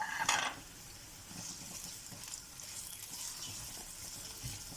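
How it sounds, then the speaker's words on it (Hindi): Chopped onions fry in hot oil for chicken nihari, giving a soft, steady sizzle after a brief clatter at the start, fairly quiet and close. "इसको हम गोल्डन ब्राउन करने तक फ्राई करेंगे जी"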